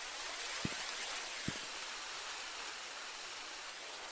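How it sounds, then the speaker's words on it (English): Steady outdoor wind in a video game rushes as an even, broad hiss throughout, with two faint low thumps early on. "It's very windy over here."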